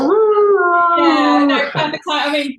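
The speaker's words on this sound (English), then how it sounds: "you can hear my dog in the background." Dog howling with a long, sustained, wavering tone that rises, then breaks into shorter whining yelps, loud and close, while a person talks over it briefly.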